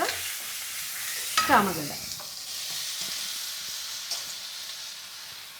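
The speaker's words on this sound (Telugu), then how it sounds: "ఇప్పుడు ఈ పచ్చిమిరపకాయ మనము పేస్ట్ చేసి పెట్టుకున్నాం కదా, అల్లం పచ్చిమిరపకాయ, ఈ నూనెలో ఇది వేసేయాలి." A ginger and green chili paste hits hot oil in a pan, bursting into a sharp sizzle that settles into a steady frying hiss, with brief stirring scrapes and a single spoken word.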